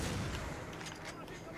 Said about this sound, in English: Whoa, someone's shooting at me from over there.